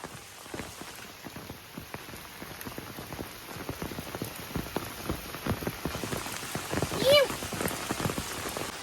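Monsoon rain falls in a forest beside a narrow village trail in Raigad, a steady close patter of drops on leaves and ground, with runoff water flowing and no talk.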